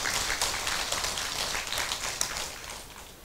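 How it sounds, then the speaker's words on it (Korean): An audience claps at a Buddhist dharma talk in a temple hall, a short burst of dense applause that fades quickly. "박수를 한번 쳐보세요."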